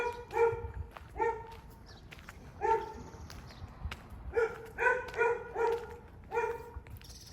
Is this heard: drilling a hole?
no